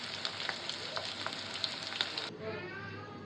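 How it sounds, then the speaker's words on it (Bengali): Garlic fries in hot oil for a festive home meal, a dense close sizzle with light scraping clicks that drops suddenly to a quieter, thinner crackle near the end. "রসুনটা একটু ভাজি করে নিচ্ছি।"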